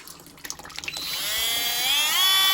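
A Hyper Tough rotary tool drilling into a hard stone corner: a few rapid grinding bursts, then a rising, steady high-pitched whine as the bit bites in, close and loud.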